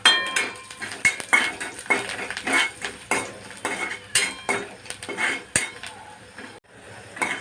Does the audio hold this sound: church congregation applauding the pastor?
no